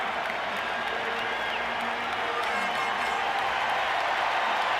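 Large baseball stadium crowd of about 45,000 at Game 6 of the 1986 National League Championship Series, a dense continuous roar with scattered clapping and cheering, steady throughout.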